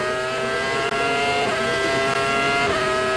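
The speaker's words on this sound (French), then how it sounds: "Alors Montoya est en piste aussi" A Williams BMW Formula 1 car driving on track during qualifying, its high-pitched engine whine loud and steady throughout with slight pitch shifts and no talk over it.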